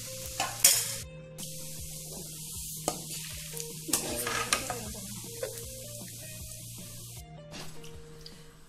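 Roasted gram stirred and frying in hot oil for a homemade mixture snack, with a steady sizzle under repeated scraping and stirring strokes, close and fairly loud, without speech.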